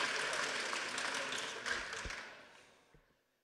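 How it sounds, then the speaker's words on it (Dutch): Studio audience applause on a Dutch talk show: a dense burst of clapping that fades out over a few seconds, fairly quiet overall. "Geef een applaus aan Henk Oosterling."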